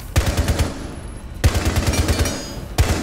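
Rapid automatic gunfire from Rainbow Six Siege, three loud bursts of closely spaced shots separated by brief gaps, close and punchy with no talking.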